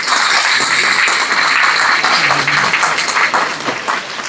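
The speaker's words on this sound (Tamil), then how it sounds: "இப்ப எல்லாரும் கைதட்டினீங்க, மகிழ்ச்சி." A large audience at a Tamil stage debate claps steadily and loudly, a dense wash of applause that holds for several seconds before tapering slightly.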